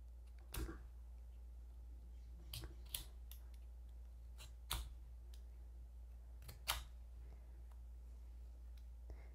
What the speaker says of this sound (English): So I'll take my box knife again and trim off